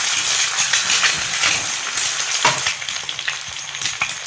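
Egg frying in ghee in a pan over a low flame, giving a steady close sizzle and crackle with small pops and occasional spatula scrapes.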